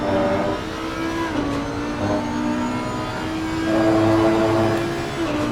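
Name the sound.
race car braking into a hairpin at COTA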